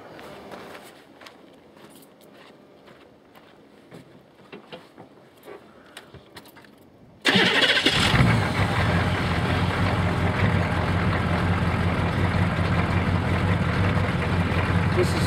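A 27-year-old Detroit diesel engine cranks and starts on a blend of 35% gasoline and 65% waste canola oil; quiet ambient background and a short click give way to a loud, steady, broadband engine idle that runs to the end.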